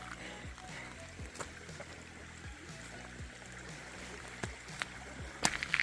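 Footsteps wading through a shallow creek on a fern-lined hiking trail of the Camino del Norte, water sloshing and trickling around the legs with occasional splashes, fairly quiet and close, growing busier near the end.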